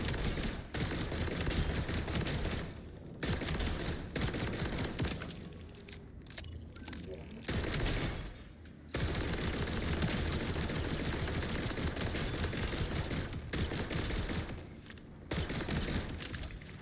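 Continuous automatic gunfire in Borderlands 4 blasts at Ripper orbs, long dense bursts broken by several short pauses, loud and close throughout.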